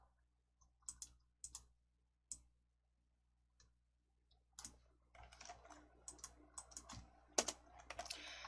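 Keys on a computer keyboard are pressed while filling cells in an Excel spreadsheet with Ctrl+Enter. A few sparse, faint clicks give way to quicker, denser typing.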